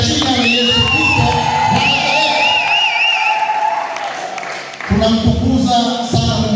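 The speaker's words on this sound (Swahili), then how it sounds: "piga kelele na kushangilia katika jina la Yesu Kristo" A church congregation shouts and cheers together in the name of Jesus Christ, a loud, dense crowd roar with whoops and some clapping. It dips briefly, then swells again. A voice speaks over the noise.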